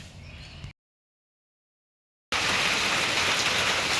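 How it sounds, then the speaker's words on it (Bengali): Rain falls steadily outside, a dense even hiss of drops; a brief patch of rain opens the stretch, then about a second and a half of dead silence, then the downpour returns louder and continuous. "এই যে আজকেও বৃষ্টি নামছে দেখেন"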